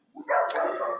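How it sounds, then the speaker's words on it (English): A dog barks outside, a single short, fairly loud bark with a slight whine to it, heard alone. "if you hear my dogs barking"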